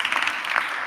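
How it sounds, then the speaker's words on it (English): Applause from a sports journalists' congress audience, a dense wash of many hands clapping steadily at moderate level for about a second, with no voices over it. "So I think he deserves an applause."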